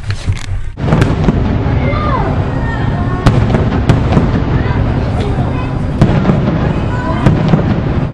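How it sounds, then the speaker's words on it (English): Fireworks burst outdoors in a steady crackling barrage, with sharp louder bangs around one, three, four, six and seven seconds over a dense, continuous rumble of pops and whistles. "Sorry to interrupt, but there are fireworks."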